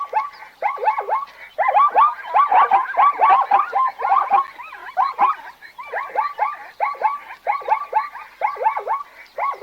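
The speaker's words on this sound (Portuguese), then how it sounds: "Esse é o som da zebra." A zebra gives a long run of rapid, barking yelps, each call a quick rising-and-falling bray repeated in bursts, fairly close and clear with no other sounds around.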